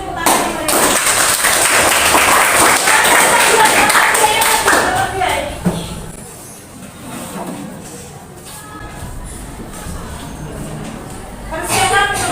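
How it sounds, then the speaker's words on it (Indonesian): A classroom of students claps together in a fiqh lesson, a dense burst of applause lasting several seconds before thinning out and fading, with voices talking over and after it. "Beri tepuk tangan yang mereka."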